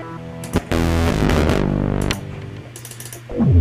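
A sound made on a Waves Element synthesizer: a dense, buzzy, swelling synth texture with clicky rhythmic pulses and sweeping tones, loud and close, with no speech.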